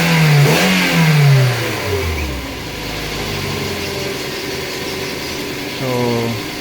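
A car engine revs up sharply, drops back to a steady idle, then revs again near the end, loud and close.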